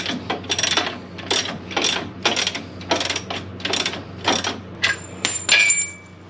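A ratchet loosens the lower A-arm bolts on a RZR Pro XP, giving a close series of quick clicking bursts, about a dozen short spurts in irregular rhythm with a faint metallic ring near the end.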